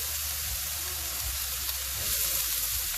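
Garlic, onions and ginger sizzle and fry steadily in a stir-fry pan, a continuous close hiss with no talking, swelling slightly louder near the end.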